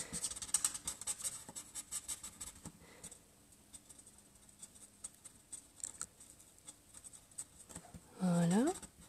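Alcohol markers, Stampin' Blends, rubbing and scratching across paper in quick, close, soft strokes, with a voice speaking quietly over the coloring.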